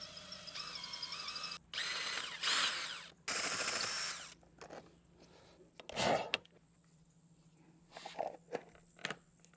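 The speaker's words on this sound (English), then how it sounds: "so we're going to go ahead and drill these out" Short bursts from a power drill with a 1/4 bit enlarging screw holes during a lithium battery upgrade on a Honda Grom motorcycle, whining in two or three spurts separated by gaps, with clicks and handling noises between.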